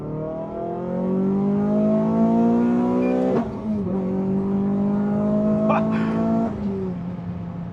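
Renault Clio 200 pulling hard in second gear with a sprint booster fitted, the engine note climbing steadily and loudly from inside the car, with a brief dip at a gear change or lift before it rises again.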